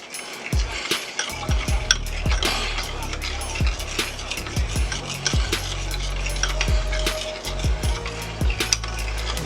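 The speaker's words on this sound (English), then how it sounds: "we're just going to simply mix that up" Honey mustard sauce and butter are stirred in a bowl, giving repeated scraping taps and clinks of a utensil at an uneven rhythm. The sound is close and fairly loud throughout.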